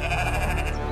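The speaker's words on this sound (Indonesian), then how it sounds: "Karena aku adalah gembala yang mengiring domba-domba yang tersesat." Sheep bleat steadily and fairly loudly over a one-second stretch, with layered overlapping calls and no speech.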